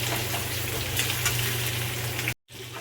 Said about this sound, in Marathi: आता हा वांगे परतल्यानंतर अजून थोडी परतून द्यायची आपल्याला 2 मिनिटं